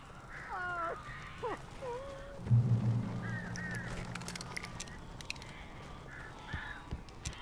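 Crows calling in the game Alan Wake, several harsh calls scattered over a steady ambient background, with a brief low rumble partway through; no speech.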